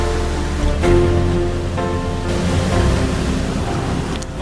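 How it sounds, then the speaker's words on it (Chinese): Cascading waterfalls at Khone Falls, a continuous loud rushing roar of falling water, broad and steady throughout with slight surges. "在这一大块地区当中，是一个瀑布接着一个瀑布，"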